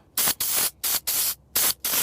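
A spray can hisses onto a stuck transmission brake on a small orange tractor in six short, loud bursts, close up with brief gaps between, and no talking.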